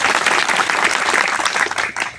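Loud, dense applause from an audience at a Koli community gathering fills the moment, with many hands clapping steadily and continuously throughout, without any speech.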